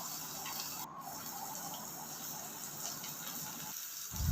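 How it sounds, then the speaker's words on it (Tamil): Water poured into a pan of oil brinjal curry, a continuous gushing, splashing flow that runs steadily throughout, close and moderately loud. "ரெண்டு டம்ளர் தண்ணி சேர்த்துங்க"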